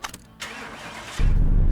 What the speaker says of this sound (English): Tell me we can start the car.